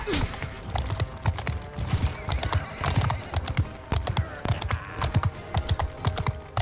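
Horse hooves clip-clop in rapid, uneven bursts amid neighing in a medieval war strategy game battle, busy and close, with keyboard clicks and a voice talking over it.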